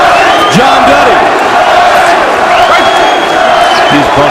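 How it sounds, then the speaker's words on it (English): A large boxing arena crowd roars and chants in support of John Duddy during his fight with Luis Ramon Campas, a loud sustained swell of voices with whoops, under commentary. "Now the crowd trying to get behind John Duddy."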